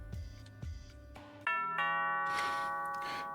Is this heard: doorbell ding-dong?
yes